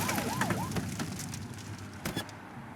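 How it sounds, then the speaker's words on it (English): Short police car siren blips in the video game The Precinct, a few quick rising-falling whoops early on followed by brief bursts, heard against steady background game noise. "Get behind them and blip the siren and make them pull over."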